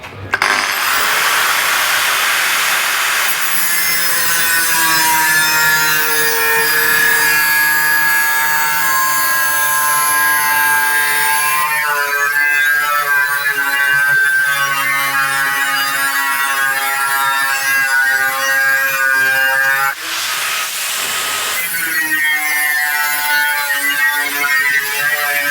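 Stainless steel sheet being cut for steam locomotive cylinder cladding on a 7 1/4 inch gauge model, a sustained ringing, whining metal cut with tonal harmonics, loud and close, pausing briefly near the end.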